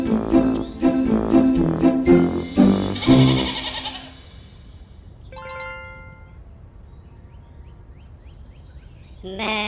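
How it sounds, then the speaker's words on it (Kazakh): Sheep bleating: a run of loud, wavering bleats that come close together for about four seconds, followed by quieter, sparse bird-like tones and a short burst at the end. "Қой."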